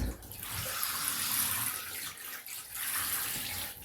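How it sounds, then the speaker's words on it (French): Shower water runs steadily into a bathtub while a baby is bathed, a continuous broadband hiss of spray close by with slight swells and dips, no talking. "on se douche dans le bain et on ferme la baignoire"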